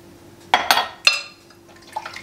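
A few quick clinking utensil strikes against a bowl while eggs and seasoning are whisked for a ham, asparagus and Swiss quiche, close and fairly loud, then fading to faint rustling.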